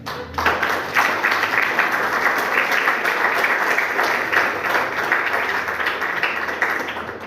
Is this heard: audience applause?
yes